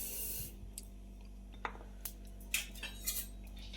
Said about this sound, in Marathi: तीन ते चार मिनटासाठी आपल्याला लो फ्लेमवर सतत हलवत राहायचे आहे